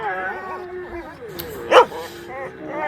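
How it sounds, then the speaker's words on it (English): A dog barks loudly with yips and whimpers, mixed in with a person speaking, and one sharp bark stands out near the middle. "Precious was triggered by Princess's loud barking"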